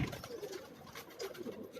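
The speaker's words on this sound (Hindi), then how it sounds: "ये काबुली कबूतर हैं जी" Kabuli pigeons coo softly and faintly in a short, low burbling phrase on a rooftop loft in Karachi.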